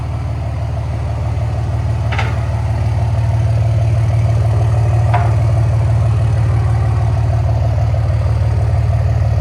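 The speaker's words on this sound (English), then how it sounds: "Bed stacked Cummins diesel." A 2006 RAM 2500 with a 5.9L Cummins diesel and a 12-inch bed stack idles steadily nearby, a deep continuous low rumble with two brief sharp clicks over the top.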